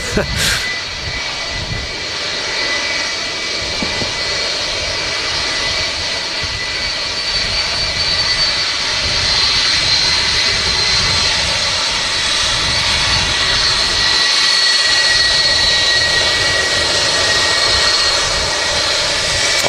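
A jet airliner at Manchester Airport produces a steady, loud engine roar that holds throughout with a constant high whine above a broad rumble.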